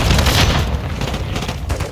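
Modern Warfare 3 hardcore match on the Rust map, with loud, dense bursts of automatic gunfire and booming shots crowding a two-second stretch as a voice talks over the action.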